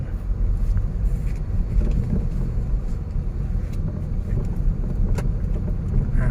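A car engine rumbles steadily from inside the cabin during a driving lesson as the driver speeds up a little. A low, continuous drone carries faint road and wind noise, with no talking.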